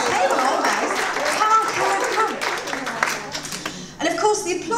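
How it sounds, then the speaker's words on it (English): Seated audience at an event claps for one table, the applause moderately loud and fairly spread out, with a voice talking over the clapping and a fresh surge near the end. "A round of applause for that table."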